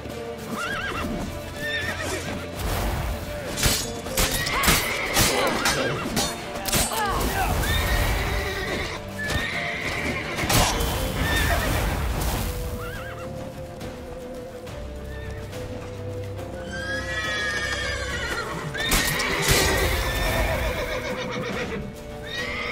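Horses whinny repeatedly while hooves clip-clop at a gallop in The Witcher 3: Wild Hunt, mixed with music, shouting voices and game sound effects throughout.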